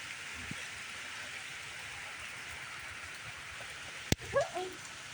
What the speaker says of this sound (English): it's raining like crazy down there